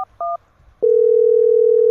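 A telephone plays two short keypad tones, then a steady continuous dial tone sounds clearly as a call is placed, with no voices.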